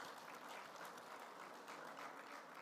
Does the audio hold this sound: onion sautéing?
no